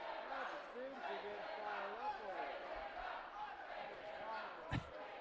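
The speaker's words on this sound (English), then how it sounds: "Crowd yelling, take him out." Crowd noise at a men's college basketball game, Fort Lewis College against Chadron State College, with fans yelling steadily throughout, mixed with other voices and a sharp thump near the end.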